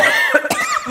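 A single person coughs sharply up close, a brief burst of a few harsh coughs mixed with breathy voice.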